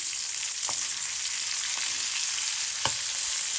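Green chillies and garlic fry in a pan with a steady, bright sizzle. A few soft stirring scrapes break through the constant crackle.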